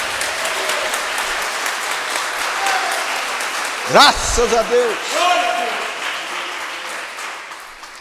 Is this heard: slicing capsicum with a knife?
no